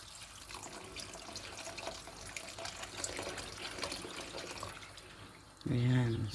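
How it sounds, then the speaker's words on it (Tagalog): Water poured into a pot of lentils cooking with ham, a steady liquid splash running under a busy kitchen background, then a louder burst of pouring near the end. "Magdadagdag pa tayo ng tubig"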